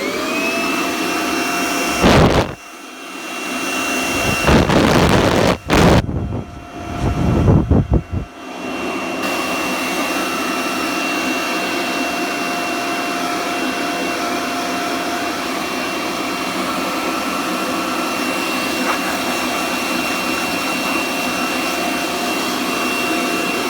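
Kirby G4 vacuum cleaner set up as a blower, a loud steady whine and rushing roar that drops out in a few brief gaps early on, then runs continuously for the rest of the clip, close and alone.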